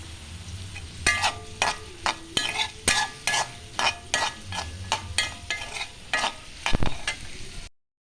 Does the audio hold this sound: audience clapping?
no